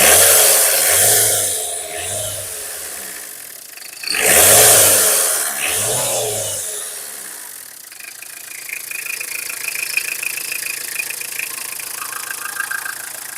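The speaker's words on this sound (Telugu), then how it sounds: "ఇంటికా ఇంజిన్ బీటింగ్ ఈ విధంగా ఉంటుందండి మొత్తం చేసుకోవచ్చు ఇక్కడ నుంచి రేస్ చేసి చూపిస్తాను చూడండి" A 2009 Tata Indica's engine rumbles with a pulsing beat, then is revved hard twice in quick surges before settling back to a lighter idle with a faint rattle, loud and close.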